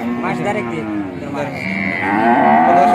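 A dairy cow at a cattle market in Ishwardi, Pabna moos loudly and close by, one long drawn-out call that rises in pitch and strength toward the end, with no talk over it.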